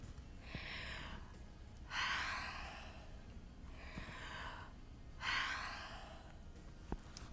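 Slow, deep breaths for vocal training, in and out in a steady cycle: two louder airy inhalations alternate with softer exhalations, close to the microphone in a quiet room.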